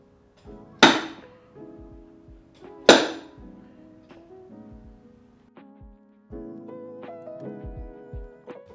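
Two sharp, light hammer taps on a car body panel during paintless dent repair, about two seconds apart, each ringing briefly in the metal, followed by quieter tapping and a low ringing hum.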